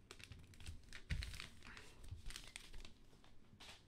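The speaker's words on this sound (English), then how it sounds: "I don't like making this paper noise," Paper crinkles and rustles while eBay shipments are packed late at night, with scattered crisp crackles and a few louder handling bumps, close and fairly quiet throughout.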